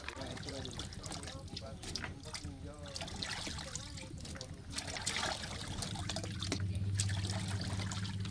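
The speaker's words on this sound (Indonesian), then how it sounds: "selanjutnya dibersihkan dengan air mengalir" Sweet potato pieces are rinsed under running water, a steady trickle and splash continuing throughout and growing slightly louder toward the end, with a low hum underneath.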